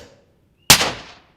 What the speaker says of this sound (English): A gunshot is a combination of several noises.